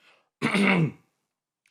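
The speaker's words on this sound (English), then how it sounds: "I need to cough" A single short, rough throat-clearing cough, close and fairly loud, surrounded by near silence with a faint breath afterward.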